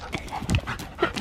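A puppy panting and moving about on a hike: quick, close breaths mixed with light scuffling footsteps in short bursts.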